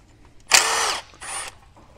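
A 10mm socket driven by a power tool spins a nut off a Chevy Cruze during turbocharger replacement, with two loud, sharp whirring bursts, the first longer, close by and without talk.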